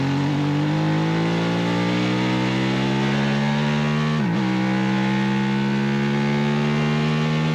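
A racing motorcycle in a Formula 3 road race, its engine wailing at high revs and climbing toward the rev limiter, with a brief dip and recovery as throttle is held, loud and continuous.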